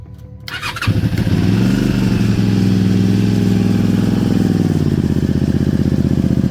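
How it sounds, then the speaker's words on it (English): Honda VTR motorcycle engine cranking briefly, then catching and settling into a loud, steady idle that runs on close to the microphone with no talk over it. "here's our VTR. It starts now."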